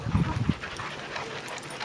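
Wet dogs playing ball after swimming and running through a sprinkler whimper and pant in a short burst near the start, then fade into steady background noise.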